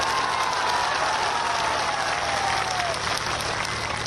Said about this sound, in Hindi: यह सच हो तो ताली बजाइएगा